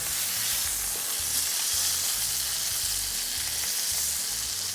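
A pot roast sears in a hot pan after being flipped, giving a loud, steady crackling sizzle with a low, rumbling undertone that runs unbroken throughout, with no voices.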